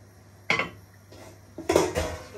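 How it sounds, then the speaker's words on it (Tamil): A metal lid set onto a cooking pot during preparation of Odiyal Kool, one clank then a second pair of clattering knocks as the lid settles, close and clear with no speech. "மிக்ஸ் பண்ணிட்டு மூடியை போட்டு மூடி விடுவோம்."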